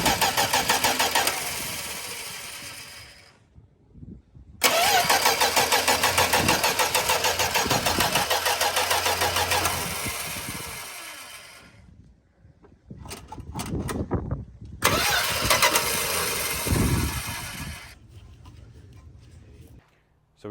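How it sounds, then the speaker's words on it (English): A 1969 Dodge Dart V8, lacking spark, cranks repeatedly without catching. Three long bursts of loud, rhythmic starter grinding are separated by short pauses. "We're gonna turn it over and see how it works."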